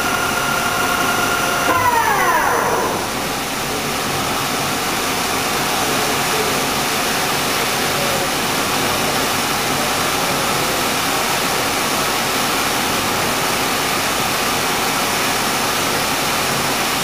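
A Dainichi MG75 CNC turning machine with its spindle running at 700 RPM, a steady even mechanical hum heard alone, with a brief rising whine from the gear change near the start.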